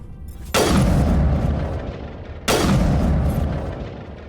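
A weapon fires in Mass Effect Legendary Edition, two heavy booming blasts about two seconds apart, each with a long rumbling decay, loud and close with no talking.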